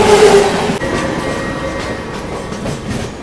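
Deccan Queen Express rolling on rails as heard from on board, a steady loud rumble of wheels with faint clatter and a thin metallic whine, continuous and close with no talk.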